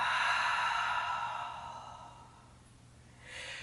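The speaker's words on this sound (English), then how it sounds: "Taking a couple of deep breaths here." Deep breathing during a stretching and strength flow session, with a long, breathy exhale that fades, followed by the start of another breath.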